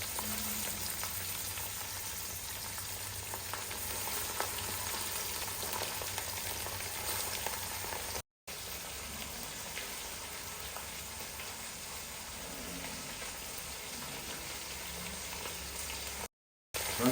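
Fenugreek and mustard seeds frying in sesame oil for a mango carrot pickle, a continuous close sizzle and crackle with two brief dropouts, steady and fairly loud throughout.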